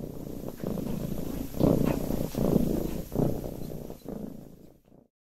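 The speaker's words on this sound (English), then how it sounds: "This is a cat's purr." A loud, rumbling tabby cat purr pulsing in slow, even cycles up close, fading out at the end.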